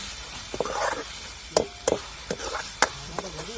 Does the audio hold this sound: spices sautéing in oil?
yes